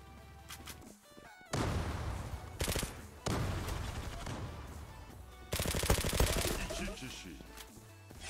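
Gunfire in the online shooter Zula: loud bursts of rapid automatic fire starting and stopping in long volleys, with a voice talking over parts of it.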